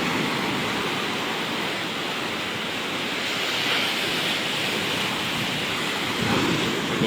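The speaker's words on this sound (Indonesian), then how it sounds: "ganasnya ombak di sini cukup tinggi" Strong ocean surf pounding Galesong beach in Takalar, a loud, continuous broadband roar of crashing waves with wind rushing across the microphone and no voices.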